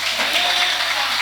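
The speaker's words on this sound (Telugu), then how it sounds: "అందరూ ఒకసారి చప్పట్లు కొట్టాలి" Church congregation clapping together in a steady, dense wash of applause at a fairly loud level, with no voices standing out above it.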